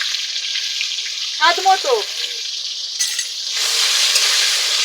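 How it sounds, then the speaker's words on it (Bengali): Tomatoes and salt fry in hot oil with a loud, continuous sizzle, and a voice briefly speaks over it partway through. "এবার টমেটোটা আমি একটু ভেজে নেব"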